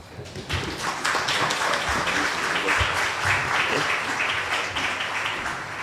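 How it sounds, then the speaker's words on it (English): Sustained audience applause fills a regional community resilience conference opening ceremony, steady dense clapping from a large crowd that carries on evenly for the whole stretch with a faint voice underneath. "clap yourself."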